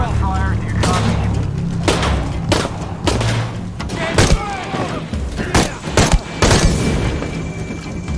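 Gunfire in the video game Shadow of the Tomb Raider: repeated loud shots and booming thuds burst at irregular intervals over a steady game backdrop, with an excited voice talking throughout.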